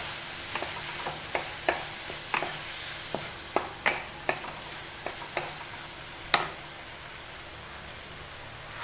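Masala being stir-fried in a pan for an aubergine and potato curry: a soft constant sizzle under repeated scraping strokes of a spoon against the pan, roughly one every half second, close and without talking.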